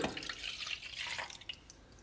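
Lukewarm milk is poured into a bowl, a soft, close liquid splash and trickle that fades over about two seconds with no talk.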